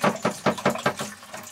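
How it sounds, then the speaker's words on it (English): Water pulses from a shaker siphon hose drawing out of a water barrel, coming in about six rhythmic gushes that splash close by and then trail off. "And water starts flowing practically immediately."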